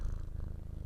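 A short burst of a cat's deep, pulsing purr heard very close to the microphone, with an even rhythmic rumble throughout.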